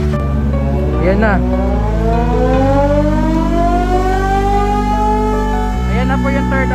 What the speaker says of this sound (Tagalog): Ayan na po yung third alarm.